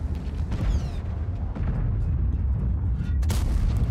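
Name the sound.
tank cannon firing in World of Tanks video game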